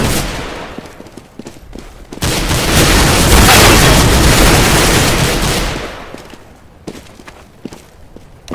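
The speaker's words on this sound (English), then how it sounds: "I'm throwing a flashbang" A flashbang grenade goes off in the shooter game CS:GO: a loud, dense burst of noise that swells and holds for about three seconds before fading, with scattered gunfire-like clicks and footsteps before and after.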